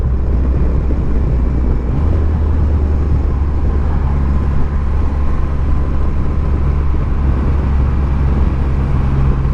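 A 2020 Triumph Rocket 3 GT motorcycle engine drones loud and steady at speed during a ride, a constant low rumble mixed with wind noise and no distinct rev spikes.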